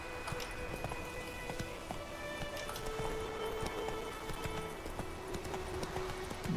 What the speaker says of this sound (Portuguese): Vou dar uma galopada aqui.